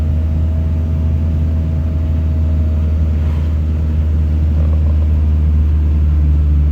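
A Honda Civic Wonder labors up a steep mountain road in first gear, its engine a loud, steady low drone and rumble with little change in pitch, close and continuous throughout.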